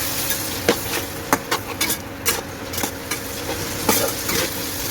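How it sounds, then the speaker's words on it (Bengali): A utensil stirs spiced lote fish jhuri with whole cumin in a pan, making irregular scraping and sharp tapping knocks against the metal, close up and without talk. "এবারে ভালো করে নাড়বো।"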